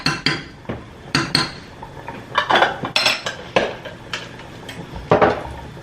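A metal spoon stirring chili oil into ramen in a bowl, clinking and scraping against the sides in an irregular series of sharp, close taps.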